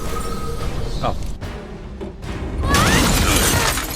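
Glass breaks with a loud, bright crash in Batman: Arkham Asylum, preceded by game sound effects and low rumbling background.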